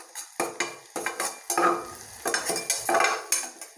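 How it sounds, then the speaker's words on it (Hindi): Chili flakes and oregano being stirred in a hot pan for masala sweet corn: a spoon scrapes and taps the pan in quick repeated strokes over a faint sizzle, close up with no voices. "इसे अच्छे तरीके से हम मिक्स कर लेंगे"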